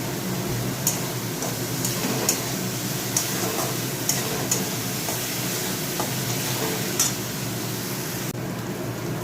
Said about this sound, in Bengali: দেখো মশলা কষে এসছে কষানো হয়ে গেছে